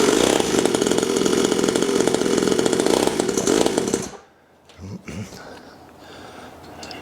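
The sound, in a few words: dirt bike engine exhaust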